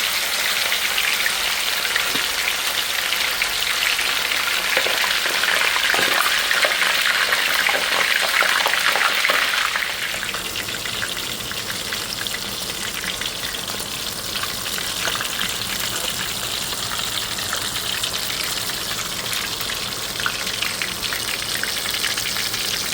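Escovitch fish frying in hot oil in a small pot gives a loud, steady sizzle and crackle, like heavy rain on a surface. It shifts to a lower, denser bubbling about halfway through and carries on without any talk.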